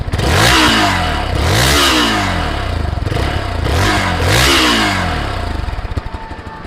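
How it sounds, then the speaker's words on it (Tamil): A Hero XPulse 200 4V motorcycle engine revs up repeatedly, its exhaust roaring and rising in pitch three or four times before settling back to a rumbling idle, loud and close. "இப்போ நம்ம வந்து வண்டியோட எக்ஸாஸ்ட் நோட் வந்து பார்க்கலாம்."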